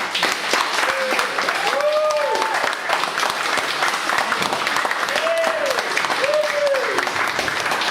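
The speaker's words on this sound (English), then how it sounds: "a massive round of applause for Dan Starkey" A large audience applauds loudly and steadily for actor Dan Starkey at a fan cafe event, dense continuous clapping filling the room with a few cheers and whoops rising above it.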